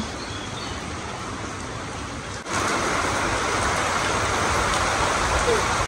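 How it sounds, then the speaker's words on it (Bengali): Steady broadband hiss of rain falling throughout, growing louder and denser partway through, with no pauses. "এই ঘুরি ঘুরি বৃষ্টি পড়তেছে"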